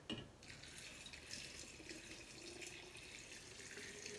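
Sugar water pours steadily into a jar packed with apple scraps, a close, continuous liquid gush and trickle with no talking.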